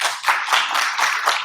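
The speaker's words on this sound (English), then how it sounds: "So please give a big round of applause." Audience at a conference session applauding in a brief, moderately loud burst of clapping with an uneven pulsing rhythm.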